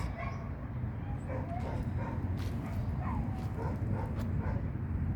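Several dogs bark and yip at a kennel at a distance, in faint and irregular bursts under a steady low rumble.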